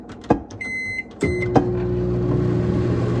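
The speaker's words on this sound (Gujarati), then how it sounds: "માઇક્રોવેવમાં ગરમ કરીને પાણી પીવાનું છે" A microwave oven heating a cup of drinking water: two short electronic beeps from the keypad, then a door clunk as the oven starts up, followed by a steady, close mechanical hum that continues to the end, with no talking.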